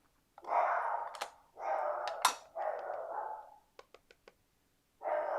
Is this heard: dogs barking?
yes